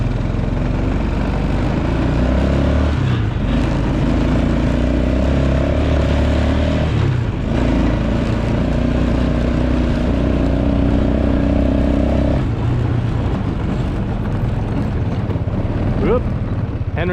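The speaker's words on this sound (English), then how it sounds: "Henry's learning how to drive the tractor" A tractor engine runs steadily nearby as it drives on a farm, a continuous low rumbling drone that rises and falls slightly with a few short dips, loud throughout.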